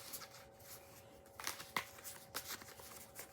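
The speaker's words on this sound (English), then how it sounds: "Give them a nice shuffle." Soft riffling and flapping of a card deck being shuffled, a few quick bursts, quiet and close.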